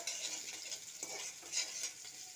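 Chopped onion with cumin seeds and slit green chillies fries lightly in mustard oil, giving a soft, steady sizzle with occasional quiet scrapes of a stirring spoon and no voices.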